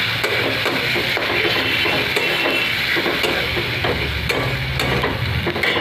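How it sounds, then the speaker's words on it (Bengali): Masala paste of chili powder, chicken masala and turmeric soaked in water sizzles steadily in hot oil for chicken curry, a constant fry with faint scrapes of a stirring spoon and no voices. "এবার মশলাটা একটু কষবো, তেলটা ছেড়ে দে"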